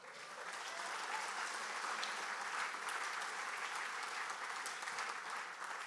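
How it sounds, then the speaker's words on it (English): Steady audience applause for a women's golf Hall of Fame inductee at a state golf association induction ceremony, sustained and even throughout, moderately distant with no talk over it. "Yes, please, round of applause."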